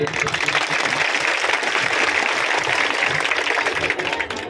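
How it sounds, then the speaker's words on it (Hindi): A crowd at a political rally applauding, a dense, steady wash of clapping that carries on loudly for several seconds. "एक जोरदार तालियां आप अपने लिए"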